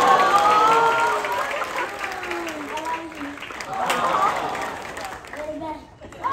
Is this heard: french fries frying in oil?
no